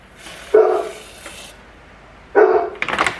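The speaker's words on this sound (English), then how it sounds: "My dog must hear our neighbor's dog." Two loud dog barks, separated by a pause, with a lingering background hiss and a noisy clatter after the second bark.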